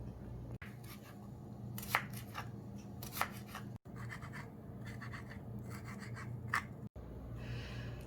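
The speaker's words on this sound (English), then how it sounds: "go ahead and cut the cucumber and the tomato and put it in the bowl of the spinach" A knife cuts cucumber and tomato on a board, producing soft scraping and rubbing strokes with a few sharper chops, faint and close, without talking.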